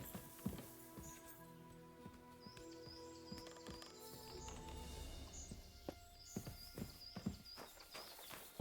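Horse hooves clip-clopping as a horse walks in a medieval-era video game, steady irregular thuds over game ambience with musical tones and faint bird chirps, fairly quiet.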